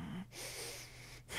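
Steady breathing from a person doing the Pilates hundred exercise on a reformer, a sustained airy inhale-exhale texture with brief pauses, close and moderately loud, no talking.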